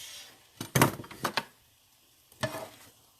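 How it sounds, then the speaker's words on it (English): Cooked food, a turkey dish, is scraped out of a pan with a utensil and loaded into a casserole dish, giving a few short close scraping and clattering bursts separated by quiet pauses. "Gonna load all of this goodness into my casserole dish."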